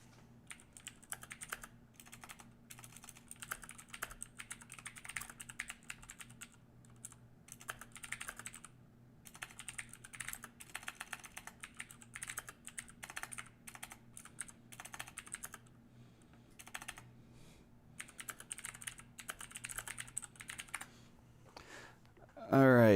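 Rapid typing on a computer keyboard, bursts of close, crisp key clicks with short pauses across the whole stretch, and a brief voice at the very end.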